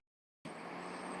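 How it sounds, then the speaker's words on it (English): After a brief silence, a garbage truck's low engine rumble cuts in and holds steady as it passes nearby on the street. "here comes a garbage truck"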